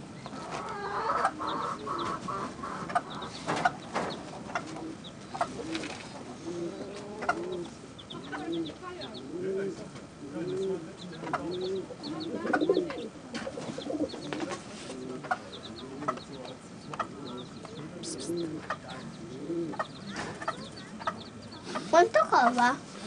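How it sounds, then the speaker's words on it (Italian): Low rolling coos from a pigeon repeat through a busy indoor scene, mixed with clucking fowl and other bird calls, while people talk nearby. "Ma lì c'è il piccione."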